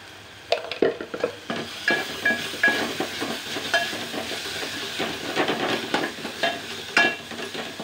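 A spoon stirs red chili powder into masala in a pan for a traditional val (field bean) birde, giving repeated scraping strokes with light sizzling in a steady, close rhythm and no speech.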